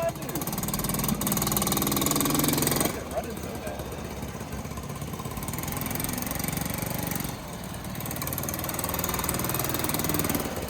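A motorcycle engine runs steadily as the bike circles a parking lot, its loud rumble dipping and swelling as it moves nearer and farther, with people talking over it.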